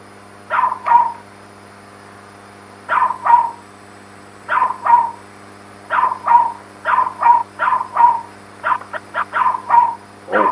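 A remixed dog bark plays as the puzzle in a call-in sound guessing game, with paired and rapid barks repeating in a steady rhythm, loud and clear over a faint background hum.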